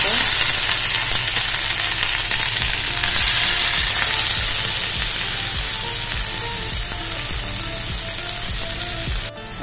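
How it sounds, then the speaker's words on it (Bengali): Eggs fry lightly in hot fat for an egg korma, giving a loud, close, continuous sizzle with rhythmic scrapes and taps of stirring throughout, ending in a sudden clatter. "মেয়ের কোরমাটা রান্না করার জন্য ডিমগুলোকে হালকাভাবে ভেজে নিচ্ছি।"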